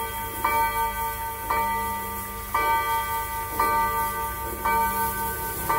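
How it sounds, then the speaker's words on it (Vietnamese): A clock strikes with ringing bell chimes, five evenly spaced, loud metallic strokes about a second apart, each leaving a bright sustained ring that decays before the next. "con này thì 30 phút là nó sẽ để một chuông và tròn giờ nó sẽ đánh đủ"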